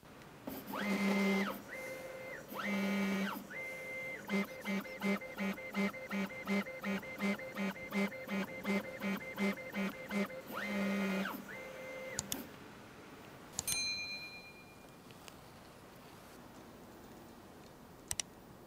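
An Ortur Laser Master 3 laser engraver runs a speed test, giving steady rhythmic buzzing pulses and tonal whirring in quick repeated bursts, close and fairly quiet, before it stops and a few faint clicks and beeps follow.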